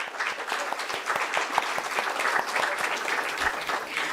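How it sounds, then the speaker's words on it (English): An audience at an architecture awards ceremony gives a round of applause, steady crowded clapping with distinct sharp hand claps near the front, continuous throughout and without speech. "I request you to all give a round of applause for Council of Architecture"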